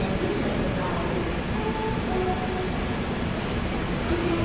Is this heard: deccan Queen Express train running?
yes